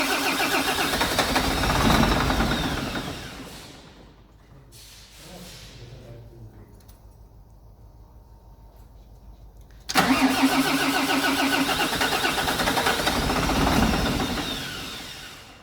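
Volvo FH13 truck diesel engine with a knocking fault cranks and starts, runs loudly, drops to a quieter idle mid-clip, then surges back to a loud steady run near the end.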